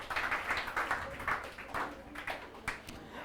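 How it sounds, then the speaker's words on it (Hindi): Classroom applause for a student named Nagendra comes as a short run of rhythmic claps, moderately loud and fairly close. The clapping has a quick, uneven beat throughout. "ताली बजाइए नागेंद्र के लिए जोरदार"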